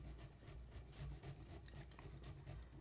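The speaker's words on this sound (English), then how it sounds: "if, like me, you are using Pecorino Romano, go in and grate it as fine as you can" Pecorino Romano is grated finely against a grater in a quiet rhythmic rasping, each stroke a soft scrape close by, with no one speaking.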